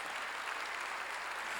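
A church congregation claps together in a dense, continuous patter of applause, steady and moderately distant, with no voices standing out.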